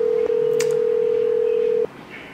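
A telephone tone for an incoming call sounds as one steady, loud electronic beep holding for about a second and a half before cutting off abruptly, with faint background noise and no speech.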